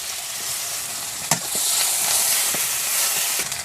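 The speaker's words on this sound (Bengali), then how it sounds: "মাছ ভাজার পরে কড়াই যে তেল আছে তাতে দিয়ে দিচ্ছি পেঁয়াজ কুচি," Chopped onion hitting hot oil left over from frying fish in a wok, giving a loud, steady sizzle with a few sharp stirring clicks throughout, heard alone with no talk.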